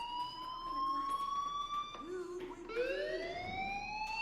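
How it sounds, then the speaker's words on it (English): Fire alarm ringing inside a school in the video game Life is Strange, a steady electronic tone with sweeping pitch changes held throughout against a busy background. "do you hear that fire alarm? That means you should be outside."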